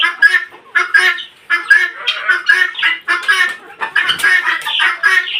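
Sonali and deshi chickens squawk and cluck in close, repeated bursts, loud and nearly continuous with short gaps between calls.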